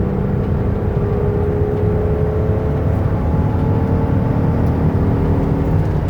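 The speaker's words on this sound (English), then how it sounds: "I'm going to give it some gas so you can hear the engine run" A 2008 Dodge Caravan SE wheelchair minivan's engine runs steadily at a loud, even level, its drone and whir holding without clear rev swells or pauses.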